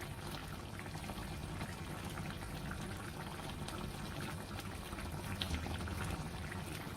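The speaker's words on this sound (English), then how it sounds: "So let them boil, then I'll stir." Lumps of egusi melon seed boil in a pot of water, giving a faint, steady bubbling and simmering hiss that continues evenly throughout with no talk.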